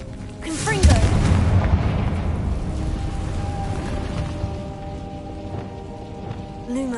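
In Hogwarts Legacy, a Confringo blasting spell lands with a sharp, booming burst followed by crackling, rain-like debris that fades into a low rumbling ambience.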